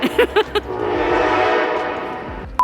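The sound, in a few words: train passing and sounding its horn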